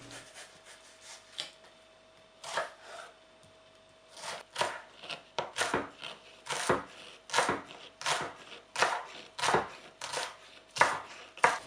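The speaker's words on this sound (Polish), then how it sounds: "Kroimy drobno cebulę" An onion being finely chopped with a knife on a board: a run of crisp, close cutting strokes that starts sparse and builds into a quick, irregular rhythm, with no talk.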